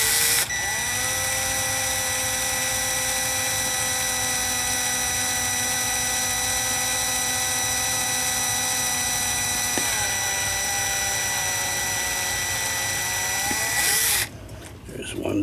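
A small drill or reamer whines steadily for about fourteen seconds while working a part of a Hubert Herr one-day cuckoo clock, the pitch dipping briefly partway through, before stopping abruptly.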